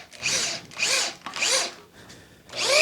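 A power drill drives screws into wood while building screen printing frames, whirring in four short bursts that rise in pitch, close and fairly loud, with brief pauses between.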